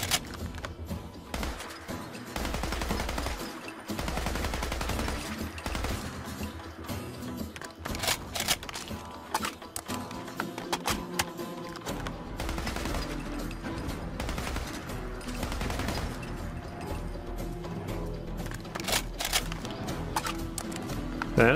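An assault rifle in Fallout 4 fires in rapid automatic bursts, dense repeated cracks and clattering volleys that run nearly without pause, loud and close, with a deep thump at the start.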